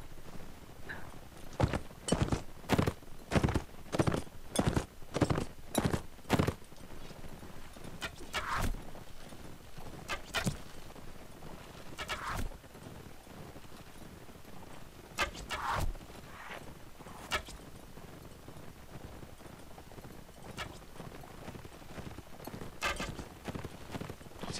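Horse hooves clip-clopping across Mount & Blade: Warband scrimmage combat, a fast run of loud regular hoofbeats early on, then scattered thuds and impacts over a steady background din.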